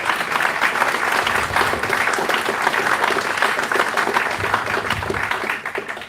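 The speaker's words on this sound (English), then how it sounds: "a big round of applause, please," An audience at CRASH Live 2023 in Kenilworth applauds guest Ian Oliver, a full, continuous round of clapping from a sizeable crowd that stays strong for several seconds before tapering at the very end.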